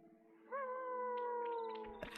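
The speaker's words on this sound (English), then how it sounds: "Howling." An animal howls in Xenoblade Chronicles 3: a single sustained, gently falling howl with clear harmonics, fairly faint, ending in a brief clatter.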